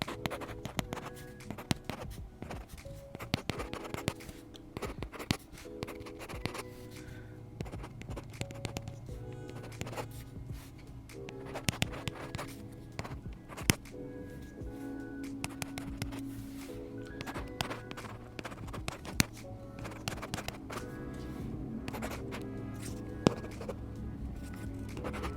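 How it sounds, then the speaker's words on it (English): Stylus of a reMarkable Paper Pro writing on its textured e-paper screen, giving a steady run of fine scratchy strokes with small taps, close and quiet, with no talking. "That's the best way I can show the sound of the writing feel here."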